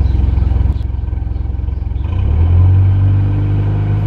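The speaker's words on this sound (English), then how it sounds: "Let's give it a bit of a rev" Car engine revving while charging a battery off the alternator, a low steady rumble that swells in pitch and loudness midway, heard up close with no talk.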